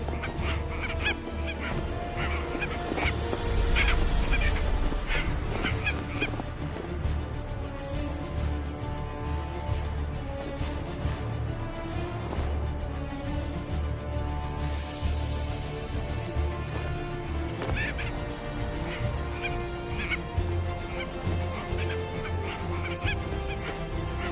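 Dense chorus of seabirds honking and squawking continuously at sea while frigate birds harass them in the air to steal their catch, a loud layered wall of overlapping calls with no talk.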